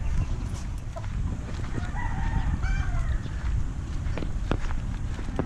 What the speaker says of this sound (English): Oh, you have a rooster too?